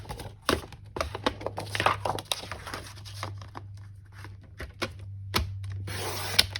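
Scissors or a trimmer cutting a 12x12 sheet of craft paper, a quick run of close crisp snips and rustling paper over a low steady hum.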